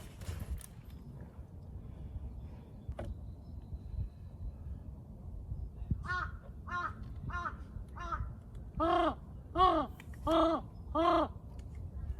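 A crow caws on a rainy mountain trail near the rocky Sinseondae summit of Dobongsan, a series of about eight loud, evenly spaced harsh caws that grow stronger toward the end over faint background noise.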